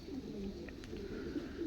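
Pigeons coo steadily at a low, quiet level throughout, a soft continuous murmur of several birds in a loft with faint higher chirps mixed in.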